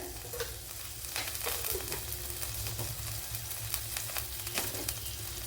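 Fenugreek seeds sizzle in hot oil in a pan for a Kerala dry mackerel curry: a continuous close hiss dotted with sharp little crackles and pops, with no talking.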